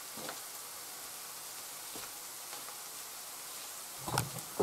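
Steady, faint sizzling of an onion bread mixture frying in a pan, a continuous hiss with a few soft clicks and a brief clatter near the end.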